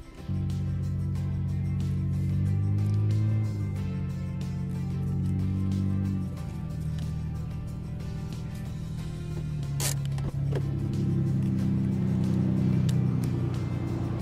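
A Lightning Yellow Nissan Skyline GT-R R34 V-Spec engine runs steadily from start to finish in a deep, close, continuous rumble with slight swells in level. No distinct starter crank is audible.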